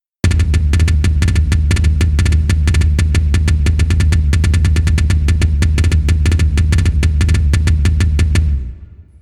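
A drum kit plays a song intro, a fast, dense triplet groove of rapid strokes with steady low kick hits, loud and close, ending abruptly after about eight seconds.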